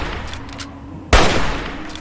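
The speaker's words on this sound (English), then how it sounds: "Let's try out this hunting rifle." A single loud, sharp hunting rifle gunshot in Fallout 3 cracks out midway and leaves a short, decaying tail over quiet game ambience.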